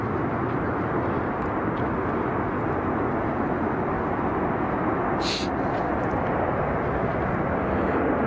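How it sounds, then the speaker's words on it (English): A loud, continuous jet roar fills everything, a broad steady rush that drowns out other sounds, with a faint high chirp briefly audible. "Of course, with a jet taking off, all bets are off."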